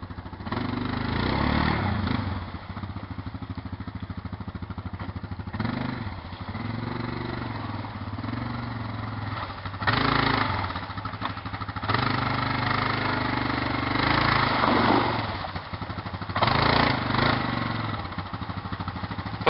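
A quad ATV engine revs hard at full throttle on an off-road ride, a continuous loud buzzing drone that surges louder in bursts as it passes close by, with no talk over it.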